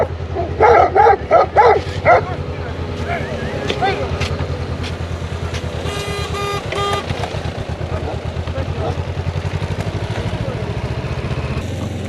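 Large farm dogs bark in loud, rapid bursts near a roadside farm in Romania during a bicycle trip, then a steady motor vehicle drone continues underneath with traffic passing close by.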